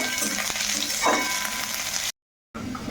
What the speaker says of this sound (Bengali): আর দিয়ে দেব কুচিয়ে রাখা পেঁয়াজ। তো এটাকে এবার একটু ভালো করে ভেজে নেব।